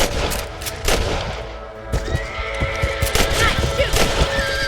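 Gunshots ring out at rabbits in Red Dead Redemption, a run of sharp, close cracks in uneven rhythm over outdoor ambience, with a faint animal call mixed in.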